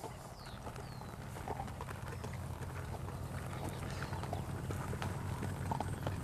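Horse hooves clip-clopping at a walk while the horse drags a log tied to the saddle, steady thuds over a continuous rough scraping and outdoor background.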